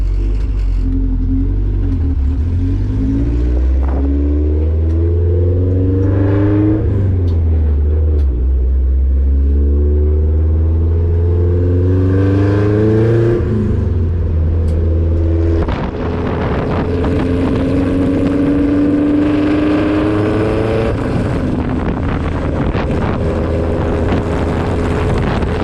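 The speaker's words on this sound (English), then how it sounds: "That's how loud the exhaust is. But it's a very nice deep tone." Loud, deep exhaust note of a car while driving, rising and falling through gear changes with a steady low rumble and wind noise throughout, no talking.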